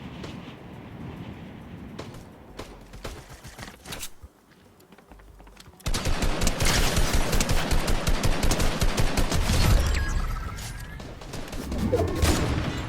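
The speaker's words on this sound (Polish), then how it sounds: "To tutaj się gdzieś tam strzelają" Rapid gunfire bursts from a Fortnite mobile match played on an iPad, a sparse crackle of distant shots at first, then a sustained loud volley of rapid automatic fire in the second half.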